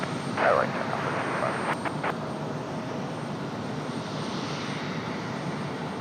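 Frontier Airlines jet departing Raleigh-Durham for Buffalo, New York, a steady broad engine roar held throughout, with a brief chirp early on and no speech over it.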